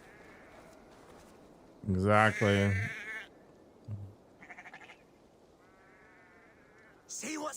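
Sheep bleating in the Assassin's Creed Valhalla video game, set in Southern England: one loud harmonic bleat stands out mid-clip, with fainter calls following, over quiet game ambience. Someone speaks briefly.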